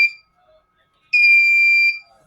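A Sailnovo egg incubator beeps twice while warming up. The first is a short tail at the start, then a steady high tone holds for under a second. Near and loud, with silence between.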